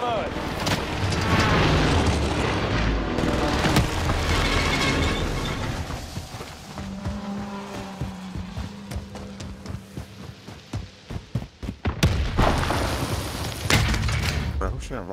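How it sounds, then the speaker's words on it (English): Rocket explosions in a video game: heavy, loud booms and blasts roll in near-continuous succession, followed by a burst of sharp rapid cracks and another big explosion, with voices speaking over the battle noise. "Bro, who's shooting rockets like that?"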